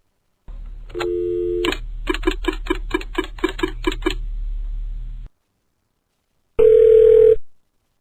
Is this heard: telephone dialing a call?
yes